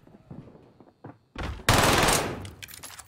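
Video-game gunfire bursts loud and sudden after a quieter stretch, dense rapid shots swelling into a sustained roar before trailing off, with faint talk beneath.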